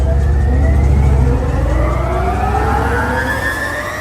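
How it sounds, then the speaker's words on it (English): The crankshaft driving the main lift of a Schwarzkopf looping roller coaster, the All-American Triple Loop at Indiana Beach, roars loud and steady with rising mechanical whine tones, a heavy low rumble easing slightly as it runs. "A few seconds later, the crankshaft for the main lift starts up."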